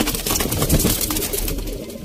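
Pigeons kept in a small loft setup in Sialkot coo steadily and close by, a low, dense murmur of overlapping birds with no talk.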